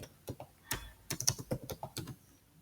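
Keys tapped on a computer keyboard at a desk, a short irregular run of close, crisp clicks and clacks alone with no voice.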